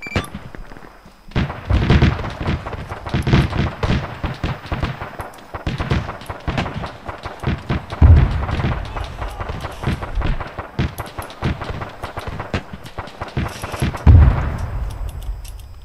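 Relentless artillery fire and explosions in a D-Day video game battle, with heavy booms and rapid gunfire packed tightly together, loud and close throughout with only brief lulls.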